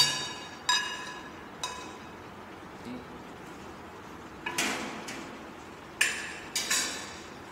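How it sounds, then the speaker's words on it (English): Cooled roasted bones set into a metal pan for brown stock, a few scattered clinks and knocks of bone against metal at irregular intervals, fairly faint in a quiet kitchen. "we will place the bones in the pan"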